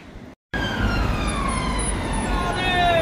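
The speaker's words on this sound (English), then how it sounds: "Where's that undercover police car I was trying to film?" An undercover police car's siren wails loudly in a Manchester city street, a sustained sweeping tone rising right after a brief gap and staying strong throughout.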